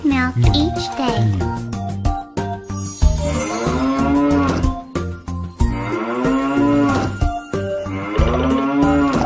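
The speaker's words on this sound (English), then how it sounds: "Cow." A cow moos repeatedly in long, drawn-out, rising and falling calls, loud and close, with several moos following one another.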